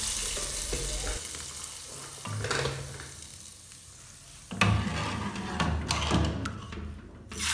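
Long green chillies frying in a pan with grated dried garlic, soft sizzling with occasional stirring and thumps of a utensil, fairly quiet, no talking.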